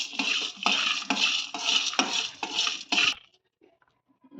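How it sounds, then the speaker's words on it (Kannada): Peanuts, urad dal and chana dal roast in a pan on the stove, stirred in about six rhythmic, scraping, rattling strokes close by before the clatter stops and near-silence follows. "ಶೇಂಗಾ, ಉದ್ದಿನಬೇಳೆ, ಕಡಲೆಬೇಳೆ ಹಾಕ್ಕೊಂಡು ಹುರ್ಕೊಳ್ಳೋಣ"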